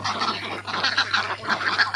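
Farm ducks, about a hundred and fifty birds, give a run of nasal quacks in quick irregular bursts, fairly close and with no talk over them.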